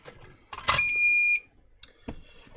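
A single sustained electronic beep from Farmscan 2199 farm scales under repair, a steady tone lasting about half a second after a brief click, with faint handling noises before and after.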